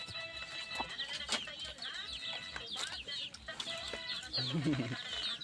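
Chickens cluck and squawk close by in a fast, uneven run of calls, with a faint low-pitched voice briefly under them near the end.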